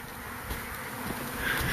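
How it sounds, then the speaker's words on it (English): A honeybee swarm buzzes as it pours into a hive made from a parking cone, a dense, steady insect drone that grows slightly louder toward the end. "they're swarming into my parking cone hive"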